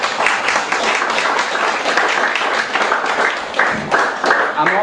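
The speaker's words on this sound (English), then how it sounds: "could we just give them a round of applause" Audience applause, a steady burst of many hands clapping for several seconds, fairly loud and close.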